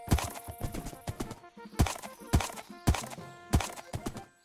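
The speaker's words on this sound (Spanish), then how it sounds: "Tengo otro caballo" Horse hooves clip-clopping in a video game, a few loud, close, irregular thuds spaced about half a second apart with clear gaps between steps, alone with no talk.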